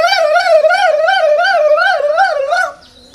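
A voice mimics a digital vehicle horn, producing a loud, close, rapidly warbling electronic tone that pulses steadily for about two and a half seconds and then stops abruptly.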